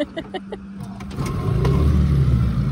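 An outboard boat motor is pull-started on a fishing trip: several short rope-pull bursts are followed by the engine catching and settling into a steady, loud running rumble.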